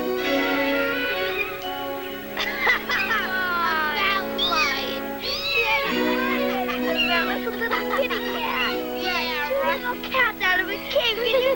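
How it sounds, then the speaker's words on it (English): Several cats meowing and yowling out of a cave, overlapping wavering cries over a held musical backdrop, loud and close throughout. "Cats out of a cave."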